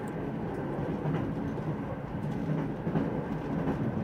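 A moving train in the adventure game Secret Files: Tunguska gives a steady rumbling, rattling rail noise at moderate volume, continuous throughout with no talk.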